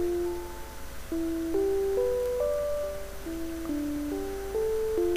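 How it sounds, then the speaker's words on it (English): A soft synth piano voice from the ZynAddSubFX plugin in LMMS plays a short sequence of single notes, stepping up and down at a moderate steady pace, clean and close with no talking. "if we let LMMS play a couple of notes on this piano, it sounds like this"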